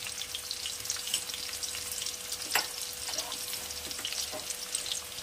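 Capsicum stir-fried briefly in a pan while cooking dhaba-style Rajasthani chana dal: a steady, close hiss of frying runs throughout, broken by a few soft scrapes and knocks of stirring.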